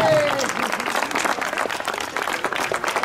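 Applause and clapping from an audience at a school pétanque awards ceremony, honouring a girls' team that finished runner-up. The clapping is steady and dense for the whole three seconds, with no gaps.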